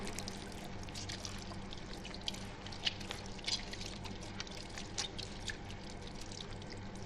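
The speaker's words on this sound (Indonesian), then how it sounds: "Maka dimulai mencuci tangan terlebih dahulu menggunakan sabun tentunya." Hands washed with soap under running water: a steady close splashing and pouring stream with small irregular drips and patters throughout, and no talking.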